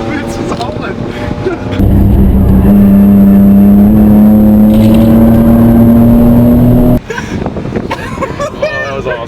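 A car accelerates hard at close range, its loud engine climbing steadily in pitch as it hauls through a gear before cutting off abruptly, with excited voices talking before and after the run.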